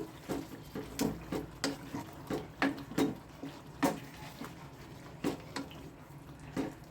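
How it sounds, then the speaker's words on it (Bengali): A spoon stirs cashew-poppy seed paste into chicken in a pot, making soft, irregular taps and knocks against the vessel with faint wet mixing between them. "এই যে কাজু পোস্তের পেস্টটা এটা আমি এর মধ্যে দিয়ে দিচ্ছি এটাকে এর সঙ্গে ভালো করে মিশিয়ে দিচ্ছি"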